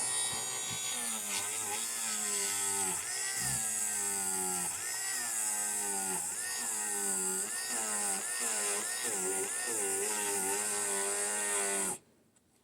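A battery-powered Dremel rotary tool sanding the edge of a wrestling belt, a loud continuous whine with its pitch wavering up and down as the tool bears on the edge, cutting off abruptly at the end.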